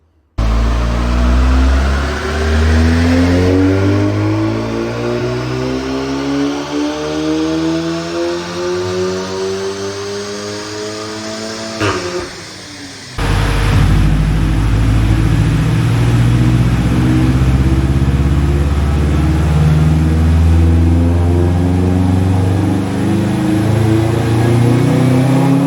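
A turbocharged car on a chassis dynamometer test bench, its engine revving loudly in long rising sweeps, dropping off briefly at mid-run before climbing again under heavy load.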